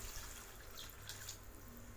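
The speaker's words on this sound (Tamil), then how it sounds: "நான் வந்து 1 கிளாஸ் தண்ணி இதில் ஆட் பண்ணியிருக்கேன்." A glass of water poured into simmering egg masala gravy, giving a steady, soft rushing splash with a few brighter spatters, fairly faint and with no talk.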